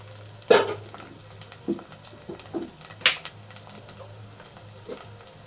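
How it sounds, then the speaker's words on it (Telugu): Sliced onions fry in oil in a pan with ginger garlic paste being stirred in, giving a steady close sizzle broken by a few scraping stirs and clinks of a spoon, with no talking. "ఉల్లిగడ్డలు అనేది కొంచెం ఏగిన తర్వాత ఇల్లు అనేది అల్లం వెల్లుల్లి పేస్ట్ వేసుకుందాం"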